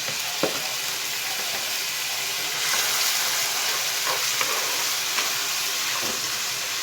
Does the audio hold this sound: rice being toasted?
yes